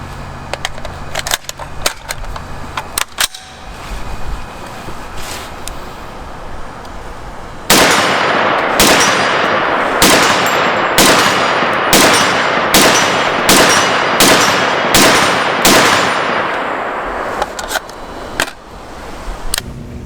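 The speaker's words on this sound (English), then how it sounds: "I'm going to edit in the shooting you saw." A rifle built on a Nodak Spud AR-180B lower fires about a dozen loud, sharp shots at a fairly even pace, with a few scattered earlier reports before the string begins.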